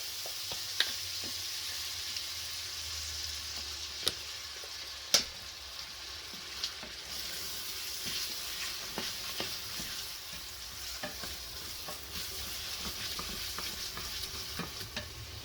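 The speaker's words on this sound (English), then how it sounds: "Just keep stirring it because you do not want that garlic to burn itself in the bottom of the pan." Garlic frying in oil in a pan alongside onions, with a steady close sizzle broken by frequent sharp scrapes and clicks of stirring.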